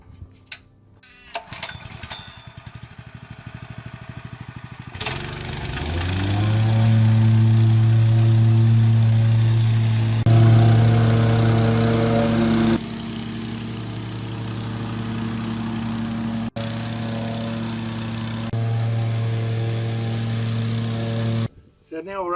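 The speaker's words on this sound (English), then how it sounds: "Okay, so now it's time to whacker pack." A whacker packer plate compactor pounds down paving road base, its engine starting up and settling into a loud, steady thudding drone close by for most of the stretch before cutting off; a voice talks over it.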